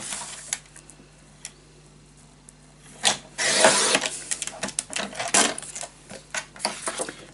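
Paper for a scrapbook mini album is cut with a few short slicing and rustling sounds, close and intermittent over quiet background, with a denser burst of cutting and handling in the middle.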